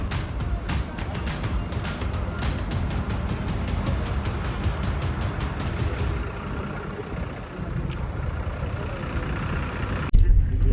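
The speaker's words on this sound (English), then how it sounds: "The bus has now driven onto a ferry because we're taking a ferry across to the island." A bus rolling onto a ferry on the way to Djerba Island in Tunisia: a steady diesel engine rumble with a rapid train of rattling clacks over ramp or deck joints, then quieter idling and a sudden loud thump near the end.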